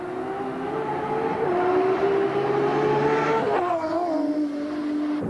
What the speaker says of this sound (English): It's got to be the nicest sounding turbocharged car, 6-cylinder, 24 valve